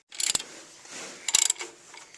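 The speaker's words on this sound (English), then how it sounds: "it's important to make sure we put a wrench on the" A wrench works a nut on the clutch lever of a John Deere machine, two short close ratcheting clicks about a second apart with a faint scrape between them.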